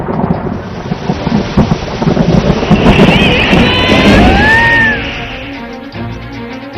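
Heavy rain pours down amid a thunderstorm in Uttarakhand, a dense loud roar with rumbling thunder and a few rising high tones cutting through the middle.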